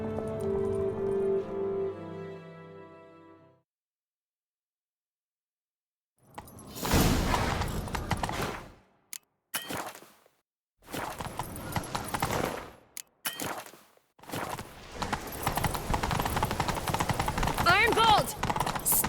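Galloping horse hoofbeats in the video game The Witcher 3: Wild Hunt come in bursts after music fades, broken by short pauses, with a voice speaking over parts of it.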